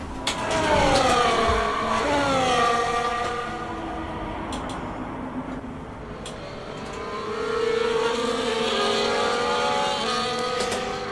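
Formula 1 race cars on a formation lap at Jeddah in F1 24, engines droning and shifting pitch as they pass and rev, loud and continuous with swelling and fading passes.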